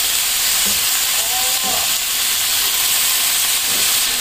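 Ingredients fry briefly in a hot pan, producing a loud, steady sizzle and hiss throughout, with a few faint clinks of stirring mixed in.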